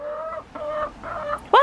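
Chickens, including a bantam, clucking in a few short bursts at close range, with one louder squawk at the end.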